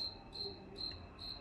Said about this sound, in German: Man hört auch die ganze Zeit die Grillen draußen zirpen.